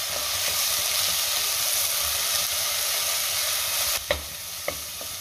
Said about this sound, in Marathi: वाटणसुद्धा परतून झालेलं आहे.